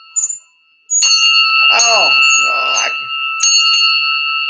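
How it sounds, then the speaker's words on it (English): A hand-held train bell rings loudly and close by, a sustained, bright metallic clang struck a few times, with a voice briefly speaking over it. "Oh, he's got the train bell."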